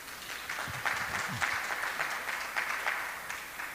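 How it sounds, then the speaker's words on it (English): Audience applause at a children's Gita recitation contest, a steady, moderately loud patter of clapping across the whole stretch, with a few faint voices mixed in underneath. "So we can give him a round of applause."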